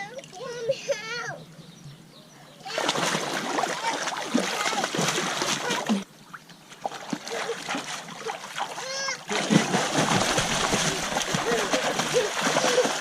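A dog swimming and splashing in water in a Bulgarian village near Sunny Beach, with steady close splashing and sloshing in two long stretches, and people's voices heard at the start and in the gaps.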